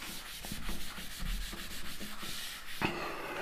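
Rough work on paper is being rubbed out with an eraser, making short, quiet, rhythmic scrubbing strokes with no talk.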